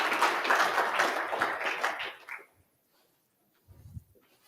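Audience applause for a speaker at a search engine marketing conference main room: dense clapping for about two seconds that fades into quiet, then a brief low thump near the end.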